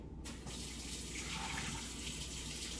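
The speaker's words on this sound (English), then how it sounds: "And while I actually run my cold water" Cold water runs steadily from a kitchen tap into a cup or sink, a close, even hiss and splash that continues without pause and with no one speaking.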